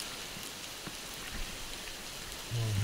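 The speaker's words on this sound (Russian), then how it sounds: "погодка у нас сегодня дождливая" Light rain patters on leaves and ground in a young forest at a WW2 excavation site, a soft, even hiss of drops close by, with a low rumble near the end.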